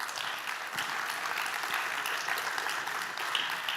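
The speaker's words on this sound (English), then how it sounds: "One round of applause." A conference audience claps steadily at a stage event, a dense even wash of applause from many hands that holds at a moderate level for a few seconds.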